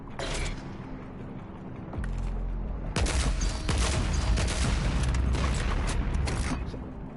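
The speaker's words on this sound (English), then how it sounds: "launch 5 sticky bombs before having to reload the mod" Sticky bomb launcher firing in the DOOM Eternal video game, with a mechanical clatter giving way to a dense, continuous roar of launches and crackling impacts, loud and close without speech.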